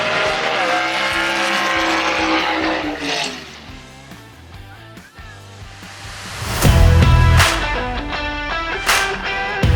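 Race cars at a Southeast Gassers drag racing event: engines roar and rev loudly, fading then surging again near the end with a sharp burst of power and tire noise.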